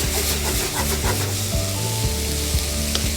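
Tofu with salt being stirred in a hot cooking pan, a steady loud sizzle with scraping stir strokes over a busy kitchen bed, no talk.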